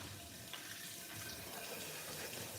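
Tap water running steadily into a kitchen sink during dishwashing, a faint continuous splashing hiss with light clinks, heard alone without talk.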